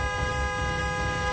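A car horn stuck pressed down on one side of the steering wheel blares as one continuous, loud, unbroken honk with a deep rumble beneath, and no one speaks.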